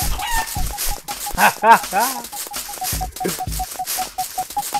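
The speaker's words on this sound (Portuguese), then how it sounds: "A galinha." A cartoon chicken clucks repeatedly in the Super Egg Hunt video game, with rising squawky calls over a steady beeping game tone, while someone talks excitedly over the gameplay.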